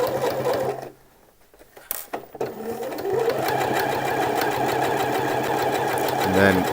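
A sewing machine stitches a shirt seam, stopping briefly, then running again in a steady, rapid mechanical whir with a fast rhythmic clatter, close and loud, while a person talks over it.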